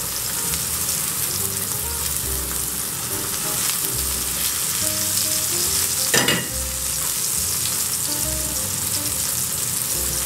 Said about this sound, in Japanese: 隣でバンズも焼いていきましょう。